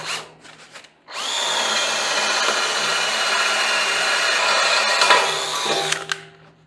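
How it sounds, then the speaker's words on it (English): A power drill bores a hole in the metal gooseneck of a homemade trailer, with a brief spin-up followed by a long, steady, loud whine that lasts about five seconds before it cuts off. "I've also determined that I'm going to drill it instead of use a torch"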